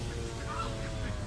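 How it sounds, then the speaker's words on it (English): Ducks call at a lake beside a road, giving a few faint honking quacks against a steady low rumble of background noise. "Look at all the ducks. The ducks probably freaked out."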